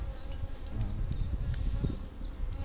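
Bees buzzing steadily during a Layens hive inspection, a dense close hum with individual insects whining past now and then, no voices.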